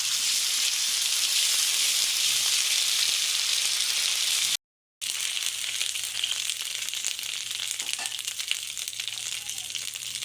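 Onions sizzle steadily in a hot pan for an egg and dal dish cooked in a tribal kitchen, a bright continuous frying hiss close up, briefly cut to silence midway, with faint voices in the background.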